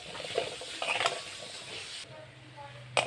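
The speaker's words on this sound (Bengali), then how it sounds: "আলুগুলো আমি ভেজে নেব ভালো করে" Potatoes seasoned with salt and turmeric fry in oil in a pan, giving a soft continuous sizzle with a few stirring scrapes, while a voice talks over it.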